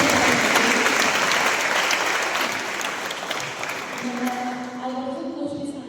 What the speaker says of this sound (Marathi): एकतरी जोरदार टाळ्या झाल्या